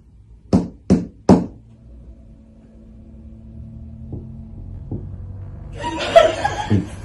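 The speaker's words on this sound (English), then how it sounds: "It's a proper hard knock." Three hard knocks ring out in quick succession from underneath, loud and sharp against a quiet room during a paranormal investigation, followed by a couple of fainter taps and then a burst of muffled voices and laughter.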